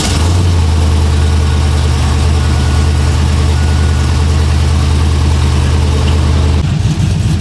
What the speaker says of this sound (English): I just wanted to start the truck up so you guys can hear it